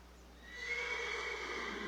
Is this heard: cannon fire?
no